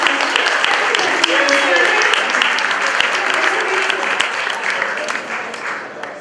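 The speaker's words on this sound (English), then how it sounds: "bring the other one together and clap" An audience of portrait sitters and guests at an unveiling event breaks into loud, sustained clapping, a dense wash of many hands at once that carries on steadily throughout.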